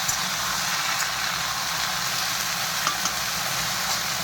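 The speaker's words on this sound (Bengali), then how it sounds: "এখন এটা ভাজতে থাকতে তেলের উপরে সুন্দর করে অনেক সময় ভেজে নেব" Mixed vegetables frying in oil for a Bengali shukto, a dense, constant hiss of sizzling that stays loud and even throughout, close by with no voices.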